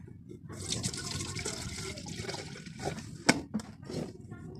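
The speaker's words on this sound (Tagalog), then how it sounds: "talagyan natin ng tubig" Water poured into an electric water heater during a repair, a steady splashing fill with a few sharper splashes and drips near the end, close and moderately loud.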